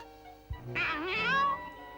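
A cartoon cat from The Smurfs gives one drawn-out, wavering meow, loud and close, rising then falling over about a second, with no talk over it.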